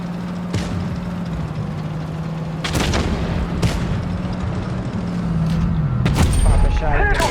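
A WZ 122-TM tank in a video game lets off several sharp, booming shots at irregular intervals over a steady engine drone, with a loud report near the end as the engine pitch drops, while a person talks over the action.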